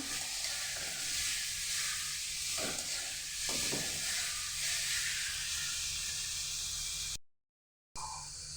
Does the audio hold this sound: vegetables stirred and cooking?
yes